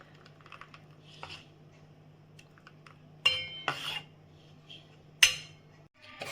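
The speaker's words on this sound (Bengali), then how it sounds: "এবারে আমি গোলাটা বানাচ্ছি। দেখো আমার ভালো করে এটাকে মেশানো হয়ে গেছে।" A spoon knocks and scrapes against a bowl while malpua batter is mixed, giving quiet clinks and a few louder clatters at irregular intervals, with no talking.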